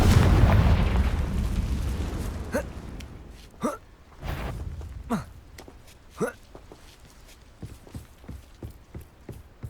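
Confringo fire spell blasts in Hogwarts Legacy on PS5 during the Victor Rookwood boss fight, a deep rumbling boom fading out, then a run of sharp magical bursts and whooshes, loud and close.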